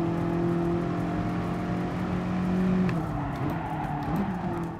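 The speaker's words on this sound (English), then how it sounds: "car sounds great. Low pitched Ford GT growl." A Ford GT in the video game GT Sport gives a low, steady engine growl at near constant pitch, then drops and roughens slightly partway through as the revs shift.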